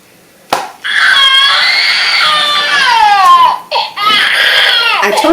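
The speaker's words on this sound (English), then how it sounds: "I'm just going to give a really big hit and he's going to scream." A RealCare Reborn 2+ Hybrid infant simulator doll lets out a loud, sustained electronic baby scream right after being struck, wailing continuously for about five seconds with two brief breaths between cries.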